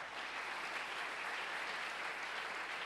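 A church congregation applauds after a sermon, a dense, steady wash of clapping from many hands that fills the whole stretch without a break.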